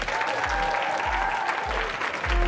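An audience claps steadily for a group of boys at a dance audition, a dense, sustained wave of applause with a few low thumps underneath.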